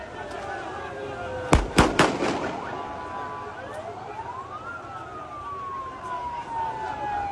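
Gunfire in the air at a funeral in Gaza City: a quick burst of several sharp shots near the start, followed by a long wailing siren sweeping up and down against a murmuring crowd.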